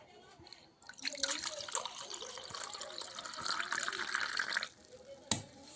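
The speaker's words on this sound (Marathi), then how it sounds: "आता हे आपण पातेल्यामध्ये ओतून घेणार आणि मग आपल्याला पाहिजे तेवढं त्याच्यामध्ये पाणी टाकायचं." Raw mango pulp and water are poured into a pot for raw mango sherbet: a steady, close liquid pour runs for about four seconds, then ends with a single clunk.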